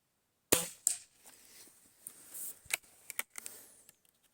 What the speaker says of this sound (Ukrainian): І останній сьомий постріл.